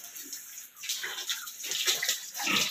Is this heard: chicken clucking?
no